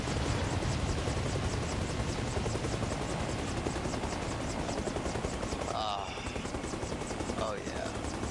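A helicopter in the game Arma Reforger runs with its engine and rotor at full power, a loud steady rhythmic chop and whine throughout, with brief faint voices and radio chatter near the end.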